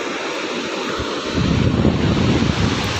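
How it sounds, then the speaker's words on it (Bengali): Sea waves roll and break on Mandarmani beach, a steady loud wash of surf that swells in strength midway, mixed with wind buffeting the microphone, with no voices. "এখান দিয়ে ঢেউগুলো যা আসছে সেই লেভেলের লাগছে পুরো"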